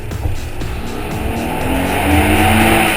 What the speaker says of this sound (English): Oh, you gotta love that tunnel blast.